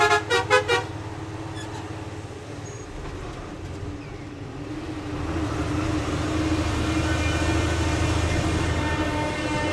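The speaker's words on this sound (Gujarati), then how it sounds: "આપણે ગાડીનો હોર્ન વગાડ્યું આપણે." A car horn gives three quick honks up close, then a steady rumble of vehicle and road noise builds and holds near a railway line by the Kota bypass.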